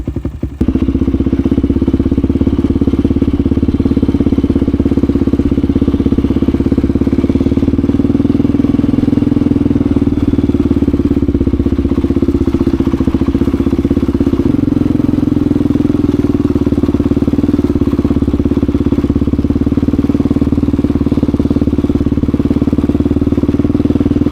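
A Honda XR400 dirt bike engine runs loud and close for the whole stretch, a steady low drone with a strong mid-range hum that rises slightly at times, under constant wind.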